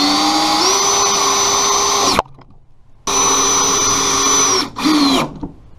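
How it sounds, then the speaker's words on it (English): A power drill drives a bicycle hook into a wooden wall stud in two long, loud whining runs separated by a brief pause, ending with a short stuttering burst. "Now it's time to finish screwing the hook in."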